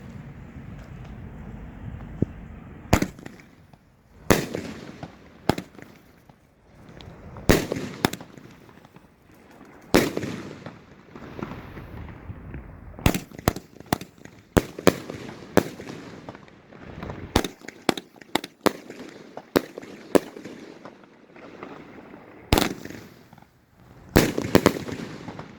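A 12-shot ion cannon firework cake from Planet X Fireworks fires outdoors on a windy night, sharp loud cracks and booms arriving singly and in quick clusters, with wind rumbling between shots.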